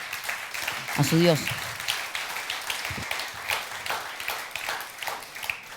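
A church congregation claps at a Spanish-language sermon, a steady patter of applause running throughout beneath a voice speaking over it.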